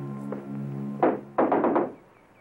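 Knocking on a door in a film scene: one heavy thunk, then a quick burst of four firm knocks, loud and close over a low background hum.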